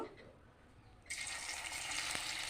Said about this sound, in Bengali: এখন আমি এক একে সবগুলো ভেজে নেব